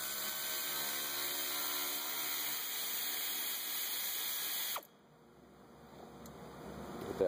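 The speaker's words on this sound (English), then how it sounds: "Just use the air ratchet because it's quicker." An air ratchet loosens radiator bolts on a Dodge Grand Caravan 3.3L, a steady close whirring run for several seconds that cuts off abruptly, followed by quieter shop ambience.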